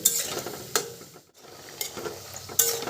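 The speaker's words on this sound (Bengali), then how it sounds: "একদম লো টু মিডিয়াম ফ্লেমে এগুলোকে ভেজে নিতে হবে" Gatta (madan bhaja) frying in oil over a low-medium flame, with a steady soft sizzle broken by a few sharp scraping stirs and a brief lull in the middle.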